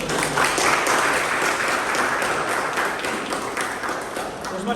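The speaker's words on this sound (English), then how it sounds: "round of applause once again for Toastmaster" An audience at a Toastmasters club meeting applauds the Toastmaster, with sustained, fairly loud clapping from a room of people that fades slightly toward the end.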